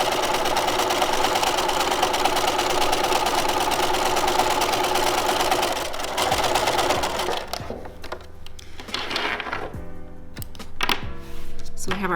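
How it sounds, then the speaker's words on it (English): A sewing machine stitches a 5/8 inch seam in heavy-weight fabric such as denim, a steady dense whirring run for about six seconds that then breaks into shorter bursts and stops. "we're going to stitch our 5/8."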